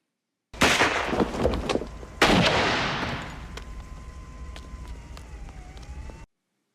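Gunfire from the crime film Reservoir Dogs rings out in two loud, sharp bursts with a long decaying echo, followed by a fading tail and what sounds like a distant siren.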